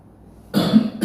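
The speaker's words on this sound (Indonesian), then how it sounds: "kalau nanti lagi ceramah saya masih ada batuk-batuk, ya mohon dimaklum" A man coughs twice during a speech, a harsh first cough followed quickly by a shorter second one, close and loud after a moment of near silence.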